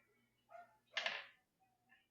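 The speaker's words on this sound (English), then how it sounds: "That bark was from somewhere else." A dog barks somewhere else in the neighborhood, off at a distance, giving two short yips followed by one louder bark, with faint sounds trailing after.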